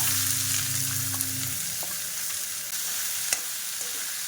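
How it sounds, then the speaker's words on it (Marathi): Chopped onion fries in oil with garlic paste for a spicy tomato chutney, giving a steady close sizzle with a low hum that fades early and a few light clicks of stirring. "अगदी मस्त आपल्याला हा कांदा तेलावर भाजून घ्यायचा आहे."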